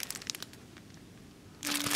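A paper tablecloth is crinkled by hand in a shop, giving a few soft crackles before a louder burst of rustling near the end.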